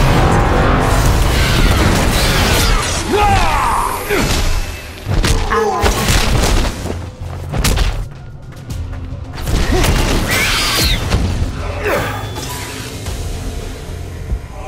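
Heavy booms, crashes and whooshing blasts of combat in the game Infinite Crisis, including an orbital cannon blast on the Gotham Heights map, rumble in dense succession, with occasional voice lines mixed in.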